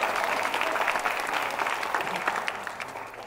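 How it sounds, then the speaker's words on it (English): Steady applause from a crowd, dense rapid clapping that holds at a fairly even level throughout without pause. "She always gets a round of applause."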